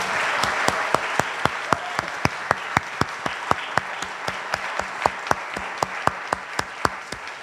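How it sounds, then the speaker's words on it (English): Audience applause after a violin maker's lecture with a violinist, a steady wash of clapping with one or two sharp, evenly spaced nearby claps standing out in a regular rhythm for several seconds. "I'd like to ask the audience to give you a round of applause once more."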